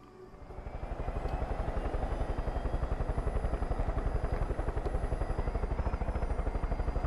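A helicopter in the video game Far Cry 5 spins up and flies, its rotor chopping in a steady fast rhythm that grows louder over the first second and then holds close and constant, with no talking.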